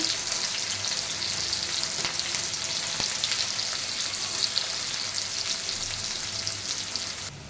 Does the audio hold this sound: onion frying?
yes